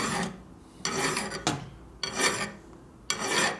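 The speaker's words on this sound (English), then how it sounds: "This way we're showing you how to use a file" A hand file rasps across a part from a 1958 Harley panhead 74ci engine, giving five close, rhythmic strokes separated by short pauses and heard alone.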